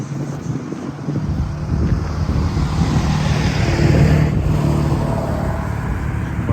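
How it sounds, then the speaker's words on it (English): A noisy truck rolls past near a creek-side walking path in Regina in March: a loud, steady, broad rumble that swells slightly and holds, mixed with wind buffeting and no talking. "Noisy truck."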